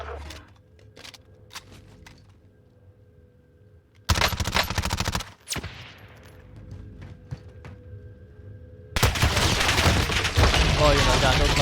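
Sci-fi shooter Warzone gunfire: a quiet stretch of distant shots, then loud bursts of automatic fire close by, broken by a pause before another sustained volley, with people talking under it.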